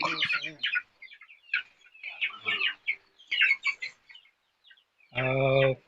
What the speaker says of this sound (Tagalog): ang mga una kong alagang manok.